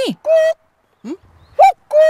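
A person imitates a cuckoo's two-note call with the voice alone, no hands at the mouth, repeating short hooting coos in pairs, close and clear, with brief quiet gaps between them.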